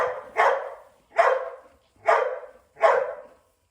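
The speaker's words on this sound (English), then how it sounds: "my dog's always barking" A dog gives four sharp, evenly spaced barks, each fairly loud and close, with no talking around them.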